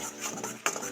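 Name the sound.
stirring milk into mohanthal flour mixture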